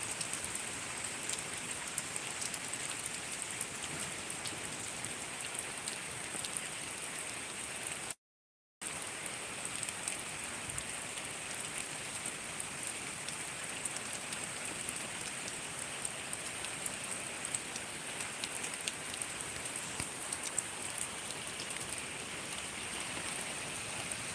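Steady light drizzle of the first Baishakh rain, a continuous soft patter of fine drops on surfaces with no voices, broken only by a brief silent gap partway through.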